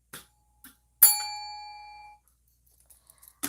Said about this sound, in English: There's the bell and part 1.